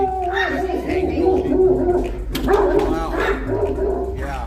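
A dog barks and whimpers in a studio during a morning radio show, its yelps mixed in with people talking.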